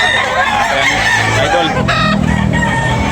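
A rooster crows loudly and close by at a chicken-selling spot, one long strained call over steady background noise and other clucking fowl, with a brief spoken word.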